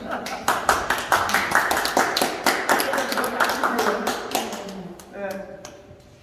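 Small gallery crowd at a photo exhibition opening claps for a 94-year-old poet, a brisk round of individual claps that thins out, followed by a voice speaking at the end.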